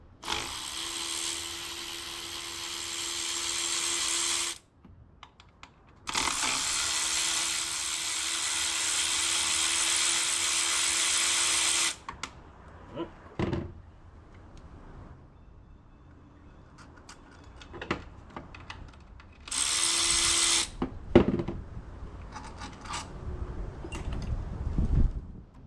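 Bolts are loosened and removed from the water pump of a 2015-17 Ford Mustang GT 5.0, with long steady power-tool whirring bursts, a pause, then scattered clicks and clinks of hardware, and another short tool run near the end.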